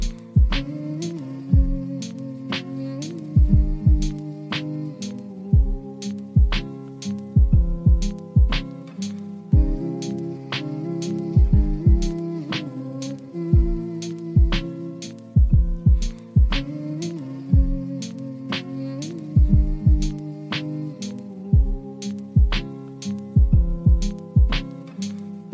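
A screw conveyor with its reducer and motor runs on a factory test stand, giving a steady tonal drone under a repeating pattern of sharp metallic clanks and knocks that loops rhythmically throughout.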